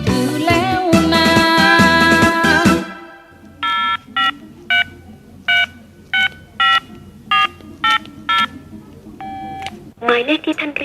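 A mobile phone number being dialed, sounding as a run of about ten short, evenly spaced DTMF keypad tones in a quiet pause. Louder music comes before them and a voice enters just after.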